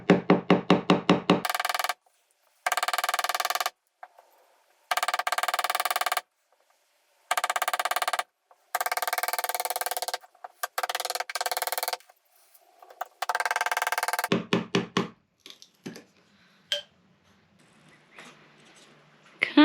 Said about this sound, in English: Oh, that piece is stubborn, needs more chiseling.